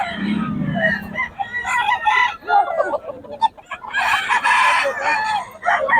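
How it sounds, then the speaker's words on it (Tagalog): A rooster crows loudly nearby at a chicken farm in Bocaue, Philippines, with other chickens clucking and calling around it in a busy farmyard chorus. "solid mga manok Boss Christian din."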